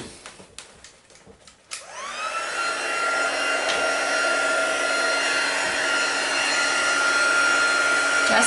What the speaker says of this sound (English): Just grab the heat tool.